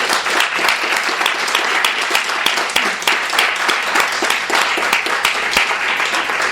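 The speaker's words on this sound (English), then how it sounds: "So please help me give a round of applause to all the readers this afternoon." Steady audience applause for readers at a bookstore poetry reading, dense clapping from a small crowd, near and sustained with no pause.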